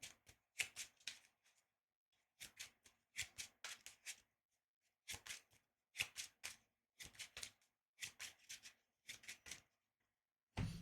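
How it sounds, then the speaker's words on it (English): A deck of game cards for a superhero card game is shuffled in several quick riffling bursts separated by short pauses, crisp and close, with no talking. "We shuffle this."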